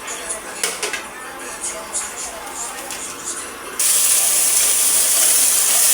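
Tosino, cured pork, hits a hot pan and breaks into a sudden loud, steady sizzle after a quieter stretch of faint kitchen clatter, with a voice speaking.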